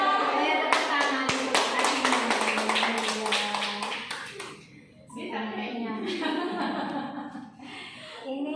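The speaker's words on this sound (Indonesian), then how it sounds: "Tepuk tangan." A group breaks into brisk applause, steady clapping for several seconds, then it tapers as voices and a bit of laughter take over.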